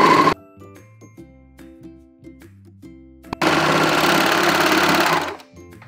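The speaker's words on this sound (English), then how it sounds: "let's sew that inseam" A sewing machine stitches the inseam of men's boxer briefs, running in one loud steady burst of fast, buzzing stitching for about two seconds after quiet handling sounds and a brief hum.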